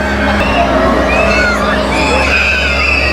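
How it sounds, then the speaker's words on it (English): Distant, high-pitched screams from roller coaster riders going upside down at Dorney Park, Allentown, rise and fall over a constant low mechanical hum. "Hear the screams?"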